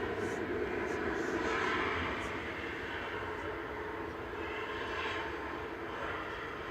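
An EasyJet Airbus A320 sits lined up on runway 05 left at Manchester Airport, its engines producing a steady mid-distance jet roar and hiss that holds level throughout, with faint voices in the background.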